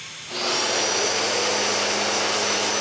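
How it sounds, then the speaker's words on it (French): A power tool starts up and cuts a hole for wires in a wooden Raspberry Pi computer case, a loud steady whining roar that stays constant after a quick spin-up. "Je coupe donc un trou pour les fils."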